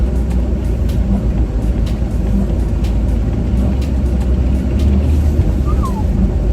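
Twin-turbo LS V8-swapped Mazda RX8 ploughing through deep snow in a blizzard, a loud, steady engine drone with heavy low rumble and constant road and snow noise inside the car.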